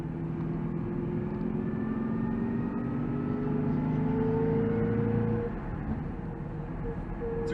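A Cadillac CTS-V drives up a road, its engine a steady, fairly close drone with a low tonal hum that holds throughout and eases slightly near the end, with no talking.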